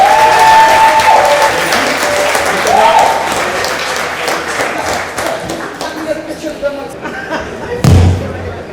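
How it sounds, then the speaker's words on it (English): Audience applause at a night performance event, a sustained wash of clapping that fades gradually, with voices over it and a heavy thump near the end. "So one more time, give them a round of applause."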